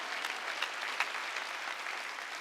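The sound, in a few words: congregation clapping hands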